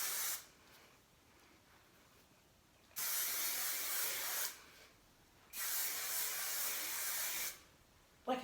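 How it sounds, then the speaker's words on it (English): Three long bursts of hissing aerosol spray, each lasting a couple of seconds, separated by quiet pauses, close to the microphone. "Just gonna use some hairspray."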